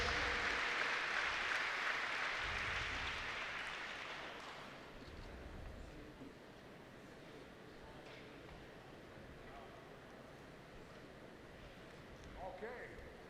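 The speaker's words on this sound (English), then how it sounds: "Give Broadnax a big round of applause." An audience at an indoor archery national championship shoot-off applauds loudly at first, then the clapping fades over several seconds into low room noise with faint murmuring.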